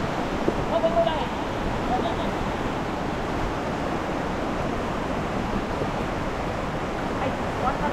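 Strong rushing water at a hidden lake makes a steady, broad roar close to the microphone, with some wind buffeting and faint talk early on.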